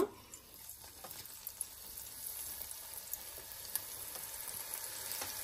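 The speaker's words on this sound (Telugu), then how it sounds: "ఇప్పుడు ఆనియన్స్ ని మనము డీప్ ఫ్రై చేసుకోవాలి, ఫ్రైడ్ ఆనియన్స్ లెక్క." Onions deep fry in oil on an electric stove, a faint, steady sizzle with scattered small pops and crackles and no speech.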